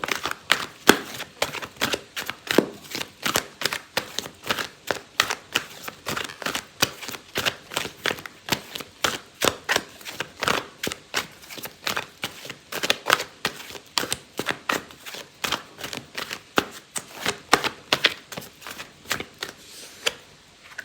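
Tarot cards shuffled by hand in quick, repeated riffling bursts, close and crisp, continuing rhythmically for a long stretch with no voices.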